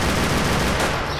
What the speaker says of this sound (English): Where's that shooting coming from?